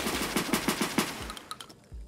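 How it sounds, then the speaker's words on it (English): Gunfire in Escape From Tarkov, a rapid burst of about six loud close shots followed by a few scattered single shots and a brief pause, no talk. "You can stop shooting now."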